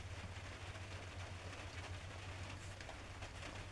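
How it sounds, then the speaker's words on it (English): Rain falling outdoors, a soft continuous patter and hiss with a low steady rumble underneath, faint and even throughout with no talking. "As you can hear, the rain is happening."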